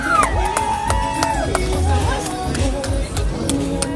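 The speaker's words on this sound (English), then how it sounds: "And make a massive cheer for John Rixey" A crowd cheers and whoops at a freestyle motocross show in London, a broad roar of voices under an amplified announcer, with scattered sharp shouts throughout.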